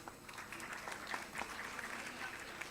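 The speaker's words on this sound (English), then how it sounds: "I request for a huge round of applause for her" Faint, scattered clapping from an audience at a medical college convocation, soft and distant with a few sharper individual claps standing out.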